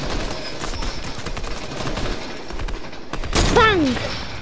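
Gunfire from a Fortnite match, with scattered shots through a busy background and a louder burst near the end as the fighting picks up. Other game sounds run alongside it.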